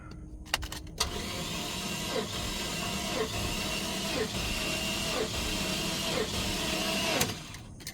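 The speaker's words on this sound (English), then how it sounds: "Not cranking fast enough." A 1995 Cadillac Fleetwood Federal Coach hearse engine cranks slowly and steadily for about six seconds without catching, a labored rhythmic starter drone with regular dips, close and fairly loud.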